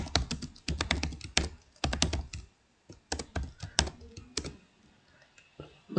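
Keys clatter in quick irregular bursts on a computer keyboard while C code is typed, loud and close, with short pauses between runs and no voices.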